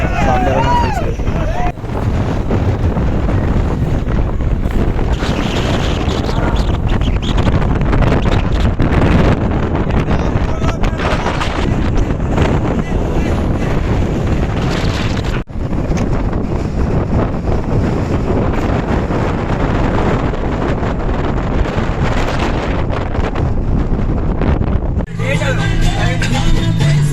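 Strong wind buffeting the microphone on a misty hilltop near Chikmagalur, a loud continuous roar with gusty surges throughout, while people talk underneath.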